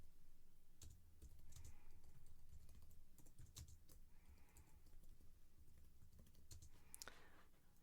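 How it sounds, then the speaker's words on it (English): Steady typing on a computer keyboard, soft rapid key clicks with a few sharper taps, continuous and close over faint background hiss. "Typing,"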